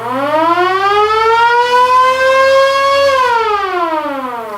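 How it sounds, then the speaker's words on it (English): A loud mechanical siren from a Fotoplayer's police or fire siren pedal winds up to a steady wail, holds, then slides down in pitch as it winds off, with a low rumble underneath. "The first one being a police siren or fire siren."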